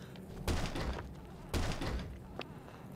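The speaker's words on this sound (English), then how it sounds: "Just body slam every single door." In This War of Mine, a door is body-slammed open with two heavy thuds a second apart, each followed by a rattling crash, then a lighter knock, loud and close.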